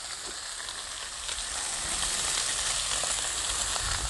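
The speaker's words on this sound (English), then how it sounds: "we're trying to get a quick sear in this, as hot as we can get it" Ribeye steak sears on a hot Blackstone griddle, giving a steady, loud broadband sizzle that swells slightly after the first second and holds close and continuous with no voices.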